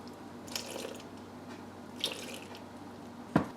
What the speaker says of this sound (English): I'm going to add 150 grams of filtered water